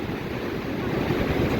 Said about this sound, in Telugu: మొత్తం వాటర్ ఇట్లా పైకి వస్తున్నాయి.